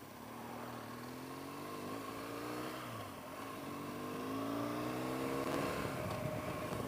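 A motorcycle's boxer engine hums while riding on an interstate, with a steady droning tone that rises gradually through the gears under wind rush. It stays fairly faint throughout and no one speaks.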